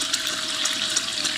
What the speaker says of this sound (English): I'm giving it some throttle, I'm going to put it into the water, and then we'll be breaking in the motor